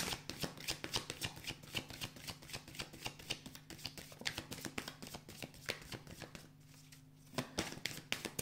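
Tarot cards being shuffled and handled during a reading, a steady run of close, crisp riffling and slapping that goes on almost without a break, with a brief lull near the end and a low steady hum underneath.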